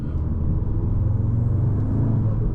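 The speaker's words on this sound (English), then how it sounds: "especially if you're in around 2000 RPMs, listen to the turbo spool up." Audi S3 2024 with a turbocharged engine running around 2000 RPM, a steady, close, deep engine rumble with a faint whirring layer that swells slightly without breaking.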